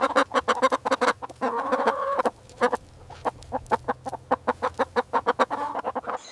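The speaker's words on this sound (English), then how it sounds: "It's a chicken." A chicken clucks in a run of short, separate calls with brief pauses, close and clear, with no voices over it.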